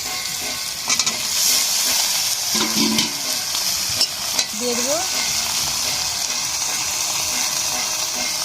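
Chopped onion and okra hit oil in a pan after shrimp has been fried, producing a steady close sizzle and hiss with intermittent stirring scrapes and a few clinks, a voice briefly murmuring underneath.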